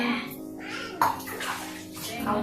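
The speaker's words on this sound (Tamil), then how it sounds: "கொஞ்சமா ஊத்தி புளிய ஊத்தி வச்சுட்டு அவ்வளவுதான்." Tamarind water being poured into a pot of hotel-style sambar in a home kitchen gives a soft, continuous splashing pour, with a voice talking over it throughout.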